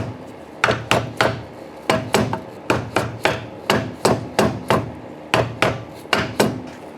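A Briggs engine oil sump is tapped down onto its dowel pins with a long run of sharp, evenly spaced knocks, about three per second, close and loud.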